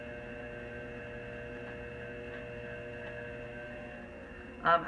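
Low, steady electric motor hum from a spinning pottery wheel carrying a lot of clay while throwing saucers and plates, constant throughout with a brief faint bump near the end.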